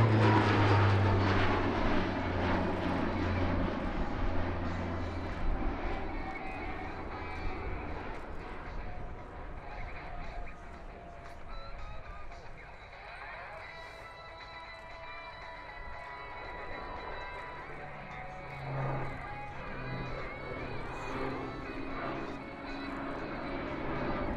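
An Alenia C-27 military transport plane flies aerobatics at the RIAT 2019 airshow, its turboprop engines roaring loudly at first, then easing and swelling as it rolls overhead in the open air.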